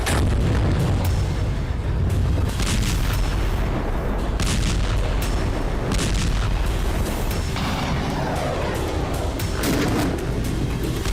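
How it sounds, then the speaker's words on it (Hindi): Bombardment of Russian cities in war footage, with dense, loud booms and bursts of artillery-like fire rumbling continuously, sharp cracks rising now and then over a heavy low roar. "रूसी शहरों पर बरसता ये बारूद महज प्रतिशोध नहीं"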